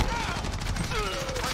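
Sniper rifle fire in a video game, a dense burst of sharp shots and echoing blasts under excited talking.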